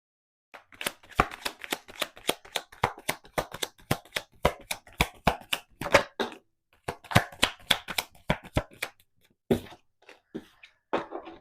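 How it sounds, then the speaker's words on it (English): Tarot cards are shuffled by hand in a long run of crisp, rapid slapping and riffling bursts, close and fairly loud, with brief pauses between flurries and no talk. "when I actually first started shuffling"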